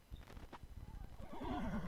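A horse whinnies loudly and close by, a rising and falling neigh, after several brief clip-clop hoof knocks, with no voices.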